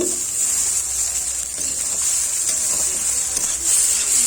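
Egg chowmein fries in a pan over medium-high heat with a steady, bright hiss and sizzle and faint stirring clicks. It plays on its own throughout, with no voices.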